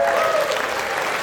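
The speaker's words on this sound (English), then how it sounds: "Now round of applause." A crowd at a charity auction at Megaplex breaks into a short, full round of applause, a bright, continuous clatter of many hands with a faint voice just audible at the start.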